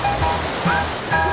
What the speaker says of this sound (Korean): 폭포수가 흐르는 강 한편